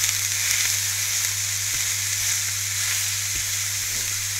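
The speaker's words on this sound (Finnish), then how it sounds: "Sitten ruskistus ihan normaalisti" Meat browning in a frying pan, a steady, continuous sizzle held close and even throughout, with a couple of faint utensil taps partway through.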